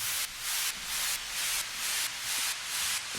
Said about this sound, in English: Falling white noise at the drop